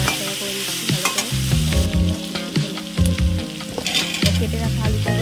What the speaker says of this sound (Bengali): দেখো নাড়াচাড়া করে দিচ্ছি ভালো করে